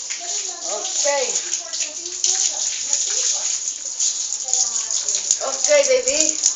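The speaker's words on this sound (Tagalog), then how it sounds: "buksan mo na tubig" Steady rushing water from a tap runs throughout, a close continuous hiss with a child's and an adult's voices talking over it at bath time.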